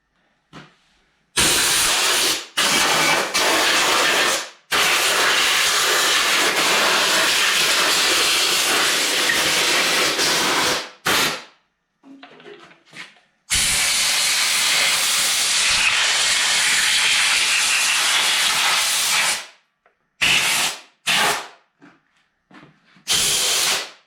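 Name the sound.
compressed air blowing out a lawn tractor air filter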